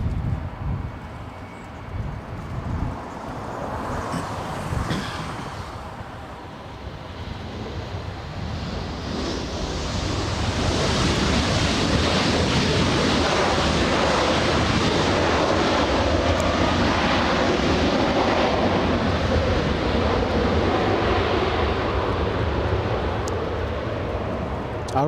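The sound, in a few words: Air Canada airliner arriving at LAX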